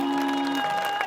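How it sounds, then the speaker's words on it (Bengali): Audience applause for the performers at a live music show, a brief wash of clapping beneath a sustained musical tone that fades out partway through. "সবাই আমাদের শিল্পীবৃন্দের জন্য জোরে একটা করতালি"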